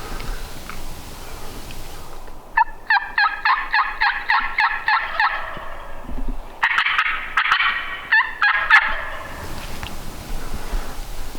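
A wild turkey gobbles in repeated rattling bursts at moderate distance on public land in the Black Hills, with a couple of gobbling runs separated by brief pauses in an otherwise quiet outdoor setting.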